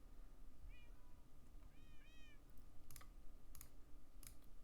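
Pet cats meowing a few times, soft rising cries near the microphone, followed by several sharp keyboard clicks, all over a faint background hiss, no talking.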